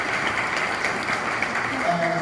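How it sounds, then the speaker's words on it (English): Audience applause for presenters at the close of a social media case-study event, a steady dense wash of clapping that fills the whole moment without breaks. "Let's give one more round of applause to all of our presenters today"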